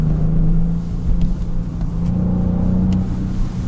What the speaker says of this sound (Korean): 가상 엔진 사운드는 커졌습니다